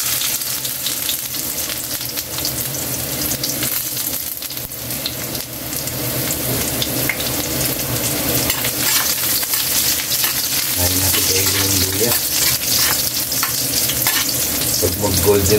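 Ginger sautéing in hot oil as the first step of a mussel dish gives a loud, steady sizzle with stirring scrapes, constant throughout and with no talking.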